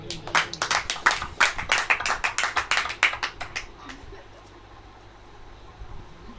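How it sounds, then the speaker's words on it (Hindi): A church congregation claps in unison during a Hindi sermon, a run of about twenty quick, loud, rhythmic claps that stops abruptly and gives way to quiet room noise. "ताली बजाइए।"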